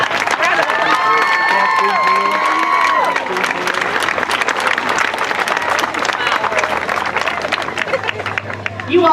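A large outdoor crowd at a Relay For Life event claps and cheers loudly and steadily, with whoops and shouts mixed into the dense applause; a voice can be heard calling out over the noise near the start.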